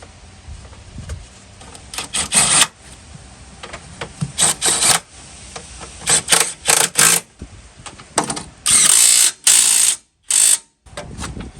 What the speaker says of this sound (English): we're gonna torque them down